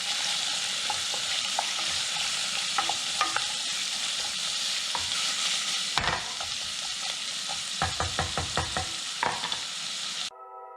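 Salt and pepper being stirred into sizzling ingredients in a pot for red lentil soup, a steady fry with a run of clustered spoon scrapes and clinks toward the end.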